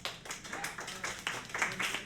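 Light clapping from a small live comedy show audience, a few hands patting briefly in uneven bursts, fairly faint and close.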